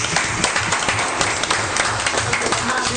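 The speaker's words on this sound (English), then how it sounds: "I appreciate the applause" Audience members at a city council meeting give a loud, close round of applause, a steady dense clatter of many hands with a few sharper individual claps, lasting the whole moment with faint voices underneath.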